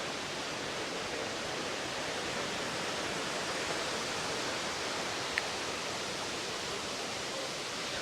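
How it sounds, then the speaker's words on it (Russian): Noisy water of the Algar waterfalls in the mountains of Spain pours down in a steady, dense, even roar, with no voices or other sounds over it. "Настолько шумная вода."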